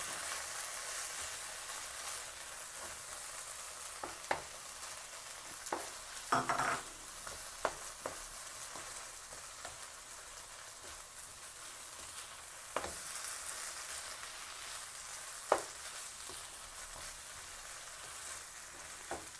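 Egg fried rice with vegetables stirred in a hot pan, giving a steady low sizzle broken by occasional sharp spatula scrapes and clicks, close and fairly quiet, with no voices.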